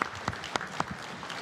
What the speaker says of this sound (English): Bob, a round of applause